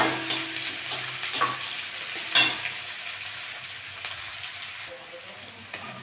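Green chillies fry with onions and cumin in hot oil in a home kitchen. A close, bright sizzle with occasional spattering pops and stirring scrapes runs throughout and eases slightly near the end.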